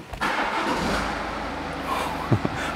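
A diesel car engine hums steadily at moderate volume on a dynamometer during ECU remapping, with a couple of sharp mechanical knocks near the end; no clear revving surge stands out.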